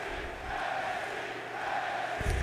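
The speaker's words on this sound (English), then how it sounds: "This crowd is going crazy for this upcoming matchup" Arena crowd in the WWE 2K20 wrestling game roaring and cheering before a match, a dense continuous wash of voices at moderate loudness, swelling slightly near the end.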